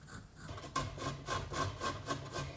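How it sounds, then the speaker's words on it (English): Fresh ginger root rubbed against a handheld kitchen grater, giving about seven even, rasping scrapes in a steady back-and-forth rhythm, close up and clear with no talking. "add about 1 to 2 tablespoons of fresh ginger, and I just grate it with my grater here"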